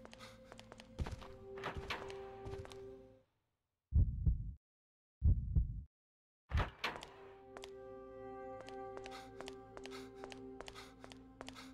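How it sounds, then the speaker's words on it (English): Zombies bang in Resident Evil Outbreak, File 2 Desperate Times: two loud, heavy thuds land close together during a quiet gap in the game's steady music. "Zombies be banging."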